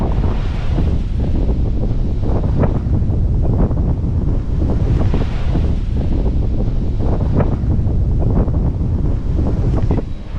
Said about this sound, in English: the wind is just blowing through it like crazy